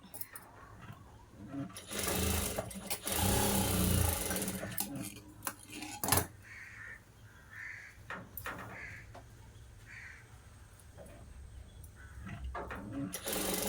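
Blouse stitching on a sewing machine, heard as bursts of mechanical whirring and clatter between pauses, strongest early on, alongside scattered handling knocks and light background noise.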